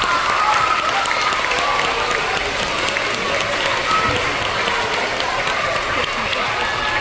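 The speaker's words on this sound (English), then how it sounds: "let's give them a round of applause for being respectful" An elementary school assembly crowd clapping for kindergarten award winners, dense steady applause filling the room for several seconds without pause, with faint voices mixed in.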